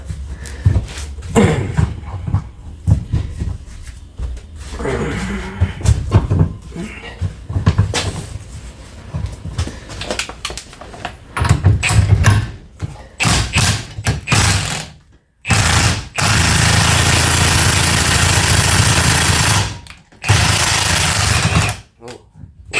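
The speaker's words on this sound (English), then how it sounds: "Good old bent U-joint puller" A bent U-joint puller presses out a universal joint on a Ford Super Duty driveshaft, with irregular clanks, ratcheting knocks and bursts of harsh grinding noise, some sustained, close and loud, mixed with brief talk.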